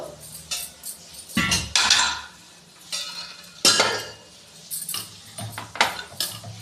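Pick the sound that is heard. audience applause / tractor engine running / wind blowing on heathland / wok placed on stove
wok placed on stove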